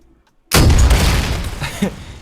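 Rocket launcher blasts in a third person shooter game: a sudden loud, booming explosion after half a second of near silence, followed by a sustained rumbling roar with a second smaller burst near the end.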